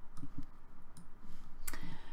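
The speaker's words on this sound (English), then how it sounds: "So we'll double click on it to open it." A computer mouse clicking in an Unreal Engine 4 editor, with several short sharp clicks scattered across a quiet room, including a quick pair near the end, and no talking.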